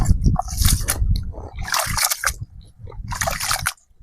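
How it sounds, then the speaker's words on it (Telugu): Water is poured over soaked ration rice in a kitchen, giving repeated splashing and sloshing bursts with short pauses between, close and fairly loud. "నీళ్ళు పోస్తున్నా కిందకి"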